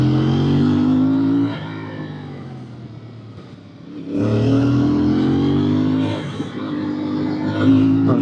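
A Moto Morini motorcycle engine accelerates hard in second gear on a road ride, a loud close harmonic drone that rises in pitch, dips as the throttle eases around four seconds, then surges and climbs again.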